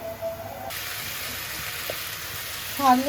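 Food frying in a pan over heat gives a steady, fairly quiet sizzle and hiss throughout, with a faint clink near the end.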